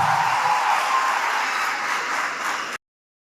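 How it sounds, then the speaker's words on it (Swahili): Applause for Arsenal football club from a crowd, dense steady clapping close and fairly loud, holding for nearly three seconds before cutting off abruptly. "Pigieni Arsenal makofi"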